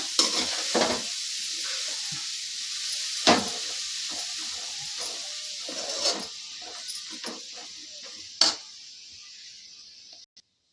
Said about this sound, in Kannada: ಅರ್ಧ ಕೆ ಜಿ ಕ್ಯಾರೆಟು ಅದನ್ನು ಹಾಕ್ತಾಯಿದ್ದೀನಿ ತುಪ್ಪದಲ್ಲಿ ಒಂಚೂರು ಬಾಡಿಸ್ಕೊಳ್ಳೋಣ